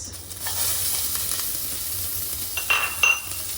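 Onion sizzles in hot oil with asafoetida, a steady close frying hiss broken by a few stirring scrapes and light clinks of the spoon toward the end.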